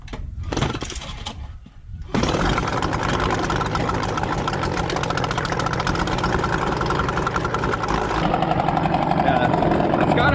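An outboard boat motor coughs to life on choke after a few faint starting sounds, then settles into a steady, loud, close idle with a continuous rough chatter.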